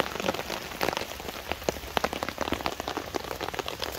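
Heavy rain drumming on a tarp over a wild camp on a disused railway viaduct, with close, crisp drops hitting the fabric in a dense, steady patter and no talking.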